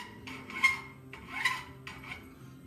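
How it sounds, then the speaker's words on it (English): A metal hand file rasps across a hammer head clamped in a vise, three short scraping strokes in a slow, steady rhythm, close and fairly quiet. "And now I'll start to file it."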